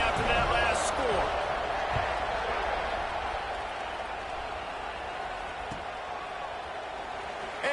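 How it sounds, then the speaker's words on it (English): A stadium crowd buzzing after a score in a college football video game against Arkansas, a broad, steady roar with a play-by-play voice talking over it. "this crowd is buzzing after that last score"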